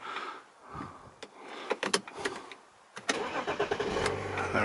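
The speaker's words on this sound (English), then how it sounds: "start the car up." A BMW X5 3.0 SD M Sport automatic diesel SUV cranks and fires up, settling into a steady idle, heard close and alone with a few clicks and rustles before it catches.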